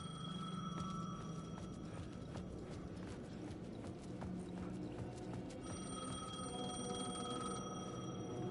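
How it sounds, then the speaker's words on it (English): A payphone rings in the video game Alan Wake, repeated electronic bell tones over a busy, clattering game soundscape with steady ambient noise. "payphone was ringing."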